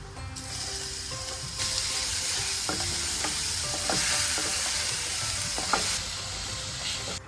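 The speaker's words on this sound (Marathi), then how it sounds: "आता त्यामध्ये आपण वाटलेला हिरवी मिरचीचं वगैरे वाटण आहे ना, ते भाजून घ्यायचं." Ground green chili paste roasting with browned onion in a pan, a steady loud sizzle with intermittent scraping and stirring clicks from a spoon throughout, no voices.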